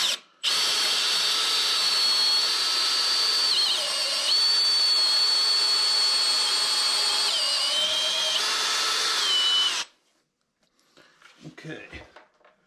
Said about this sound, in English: I'm basically going to drive this drill bit as far as it'll go.